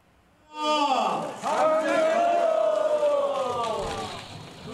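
A crowd cheers and shouts loudly as a ridge beam of Geumgang pine is hoisted onto the restored Seonhwadang building in Jeonju during its roof-beam raising ceremony. The sustained voices swell and hold for several seconds.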